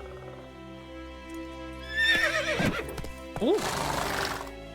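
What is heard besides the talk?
Geralt's horse Roach neighing in The Witcher video game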